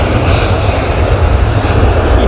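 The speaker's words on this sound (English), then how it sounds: "That noise that you're feeling, that rumble is actually the tyres on the runway surface." An Air China 747-8i rolls down the runway, its tyres and engines making a loud, continuous low rumble and roar with no talking.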